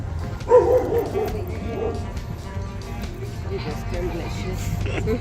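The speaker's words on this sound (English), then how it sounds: "there's a bunch of dogs everywhere you go" Dogs bark on the streets of Holbox island, Mexico, with one sharp bark standing out early and a few fainter yips later, under background chatter and street noise.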